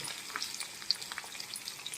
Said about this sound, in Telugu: గింజలతో వేసుకొని బాగా ఎర్రగా వేయించుకోండి